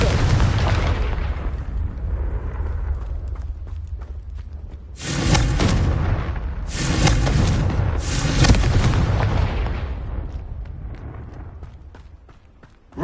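Confringo spell blasts in Hogwarts Legacy, several heavy booming explosions in quick succession mid-clip over a rumbling game backdrop, loud and near, then fading away toward the end.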